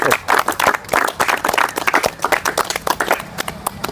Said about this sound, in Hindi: भाई के लिए ताली बजाइए।